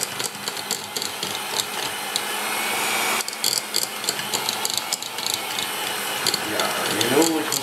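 An electric mixer beating pavlova meringue mixture in a home kitchen in Norrköping, Sweden: a steady whirring, rattling hum that runs throughout, with people talking over it.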